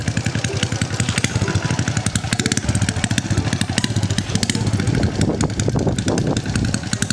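A Honda Dream motorcycle pulls away from a standstill, its small single-cylinder engine buzzing loud and close with a steady, rapid putter that holds for the whole stretch, no voices over it.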